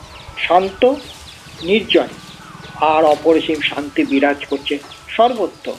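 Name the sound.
birds calling and chickens clucking in a village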